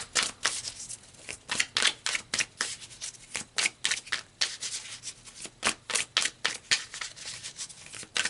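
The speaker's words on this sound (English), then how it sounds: "let's pull some more cards" Tarot cards pulled and shuffled by hand, producing repeated sharp papery flicks and riffles in a brisk, steady rhythm, close up and clear, with no talking over them.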